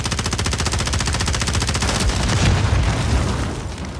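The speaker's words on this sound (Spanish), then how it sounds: "Escucho un bomba en el" Video game firefight on cliffs: rapid machine-gun bursts rattle continuously with heavy booming blasts swelling near the middle, loud and close, with no talking.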